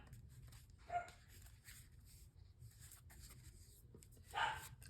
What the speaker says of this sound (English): And please excuse my dog. He's so freaking loud.